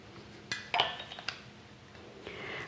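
A spoon clinks against a pot while red pepper flakes are stirred in, a few sharp metallic taps and scrapes spaced irregularly, fairly quiet and close with no talking.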